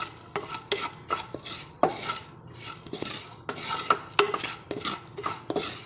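A spoon scrapes and clinks in a rhythm against a hot clay pot, stirring turmeric and coriander powder as they roast over the flame. The close, repeated scrapes sound alone, with no talk.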